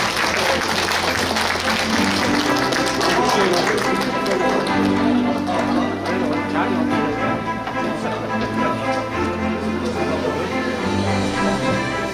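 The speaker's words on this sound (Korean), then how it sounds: "시장님께 큰 박수로 환영해 주시기 부탁드립니다." A crowd gives sustained, dense applause to welcome the mayor arriving at a Suncheon tourism day awards ceremony, with music and background voices mixed in throughout.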